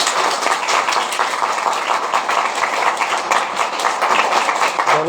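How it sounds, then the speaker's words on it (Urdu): A church congregation claps loudly and steadily, a dense continuous wash of applause filling the room throughout, with no voices standing out. "زوردار تالی بجائیں۔"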